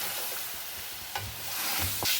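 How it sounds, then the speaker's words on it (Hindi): A spoon stirring full-cream fresh milk into roasted vermicelli for seviyan kheer, soft scraping strokes under a steady hot sizzle and hiss from the pan. "साथ साथ चम्मच चलाते रहिए।"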